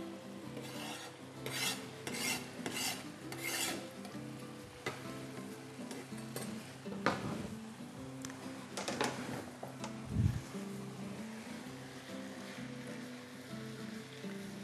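Food being stirred and mixed in a pot, scraping and rubbing strokes with a soft sizzle, a quick run of rhythmic strokes at the start and then slower stirring, fairly faint and close.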